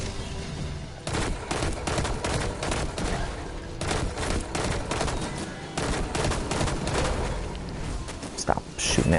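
Rapid bursts of video-game gunfire in Destiny 2 crackle in dense, repeated volleys of automatic shots, loud and continuous with short gaps between bursts.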